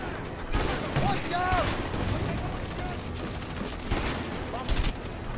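Gunfire in the prison-escape game A Way Out, a firefight of scattered shots and short automatic bursts at moderate distance, with a louder close volley near the end and faint voices underneath.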